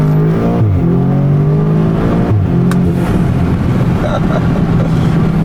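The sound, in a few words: Audi S3 or VW Golf engine revving with crackle tune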